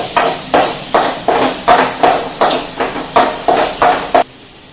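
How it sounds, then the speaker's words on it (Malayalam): Ginger and garlic sauté in a pan for gobi manchurian, a spatula scraping and knocking against the metal in an even rhythm of about a dozen strokes over a low sizzle, close and loud. "ഇഞ്ചി, വെളുത്തുള്ളി വഴറ്റുക."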